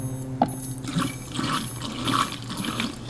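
Liquid sloshing and splashing as a drink container is tipped and emptied, with a few clinks and gurgles, close and moderately loud, no talking.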